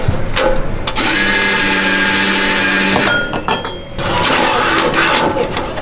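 A coffee printer in Japan printing faces onto milk foam, whirring and buzzing steadily with a mechanical tone, broken by short clicks and knocks as it starts and stops.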